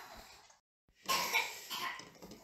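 A short silence, then a burst of coughing, close and fairly loud, trailing into rough breathy sounds.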